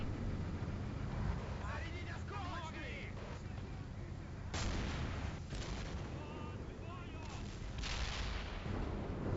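Gunfire and heavy artillery-style blasts ring out while a tank is attacked in the war game Men of War: Assault Squad 2 Cold War mod, with sharp bursts and booms over background rumble and players talking.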